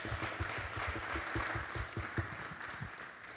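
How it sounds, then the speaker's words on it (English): An audience claps after a presentation at a blockchain summit, a fairly faint, scattered round of hand claps with distinct individual strikes, thinning toward the end. "Let's give her a round of applause."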